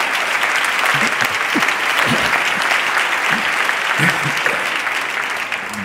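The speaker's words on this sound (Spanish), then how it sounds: "Pueden aplaudir, no hay problema." Audience applause fills the hall at the Premios Ondas 2020 award ceremony, a steady, loud wash of clapping from a large crowd that holds evenly throughout with no voices over it.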